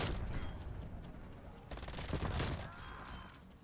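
Rapid bursts of MAC-10 submachine gun fire in the Call of Duty Cold War video game rattle in dense fusillades with crackling impacts, fairly quiet in the mix, with excited talk mixed in.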